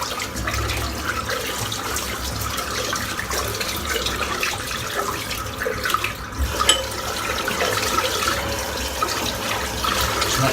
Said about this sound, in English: I am going to rinse the brush out, which is still chockers full of lather.